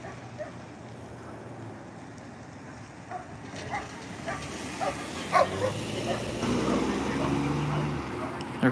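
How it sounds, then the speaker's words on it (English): Sheriff's K9 unit police dogs bark in scattered bursts at a moderate distance, some yips and whines among them, over a low outdoor rumble and occasional vehicle noise. "That's actually the K9 unit. You can hear them barking."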